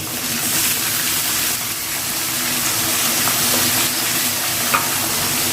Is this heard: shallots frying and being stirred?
yes